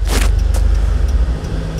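A manual-transmission car pulling away smoothly during a road driving lesson, a loud, steady low engine rumble with a brief whir, heard from inside the cabin and without talk.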